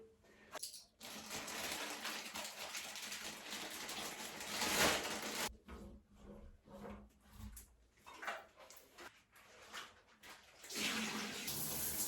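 Water runs from a freshly vinegar-cleaned shower head, a soft, hissing spray that starts and stops in bursts, fairly faint and with no talking.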